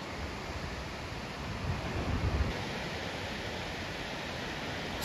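Tiny waves break on a beach at sunset, giving a steady, soft wash of surf with a gentle swell in the middle and no voices.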